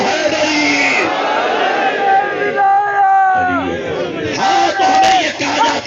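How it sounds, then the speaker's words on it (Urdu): Large crowd at a Shia majlis gathering in Dera Ismail Khan loudly chanting the religious slogan "Haidari" together, a swelling, sustained roar of many voices with a harmonic rise and fall, close and full. "مل کے بولو حیدری،"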